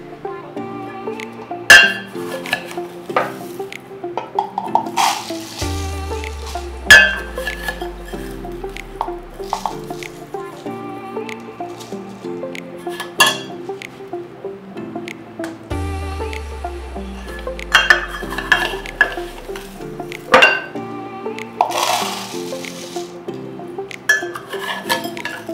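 Floral bath salts poured and clinked into clear 8-ounce PET jars, with scattered glassy clinks and rattles of handling over quiet background music, no talk.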